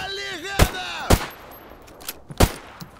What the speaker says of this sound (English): He's shooting through the trees.